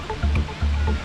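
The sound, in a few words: waterfall on the Hermon stream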